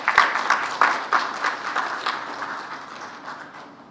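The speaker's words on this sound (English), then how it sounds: "Round of applause as it comes." Applause at a closing session of a meteorology conference, starting with a few strong claps and fading to a thinning patter over four seconds, moderately distant in a large hall.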